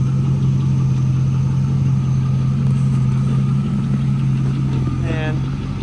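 A 2002 Chevrolet Camaro SS 35th Anniversary Edition with a 5.7L 345 hp V8 idles with its exhaust dumping just behind the door ahead of the muffler, a loud steady low rumble held close throughout.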